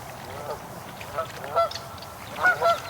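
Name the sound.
geese honking near goslings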